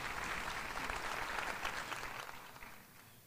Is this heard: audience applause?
yes